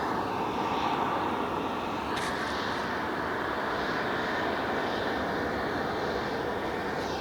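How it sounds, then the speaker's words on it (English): A former Horizon Air jet airliner at Phoenix airport gives a steady, loud engine roar and rushing hiss that holds evenly throughout, with no talking. "Oh, this is that former Horizon plane. From Spokane."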